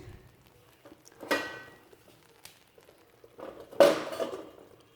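Metal lid set onto a cooking pot of moong dal halwa, two sharp clanks separated by a couple of seconds, close and fairly quiet against a still background.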